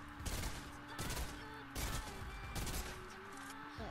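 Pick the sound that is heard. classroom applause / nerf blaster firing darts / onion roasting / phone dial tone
nerf blaster firing darts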